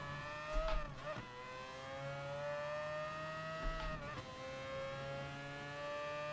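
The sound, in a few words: LMP1 race car engine in Gran Turismo Sport video game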